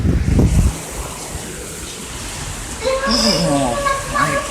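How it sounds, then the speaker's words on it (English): Strong wind roars outdoors during a tornado as a steady, loud rushing blast with microphone buffeting. A voice speaks briefly at the start and again toward the end. "That was the biggest wind ever."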